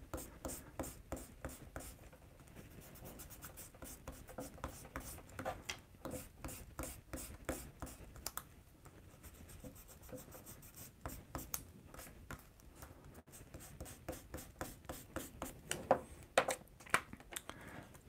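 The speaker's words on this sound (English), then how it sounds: "kneaded art gum eraser here, and we can take out all these guidelines, these pencil lines, the graphite" A kneaded art gum eraser rubs pencil graphite lines off paper in quick, repeated scrubbing strokes, close and dry, coming in bursts with brief pauses between passes and no talking.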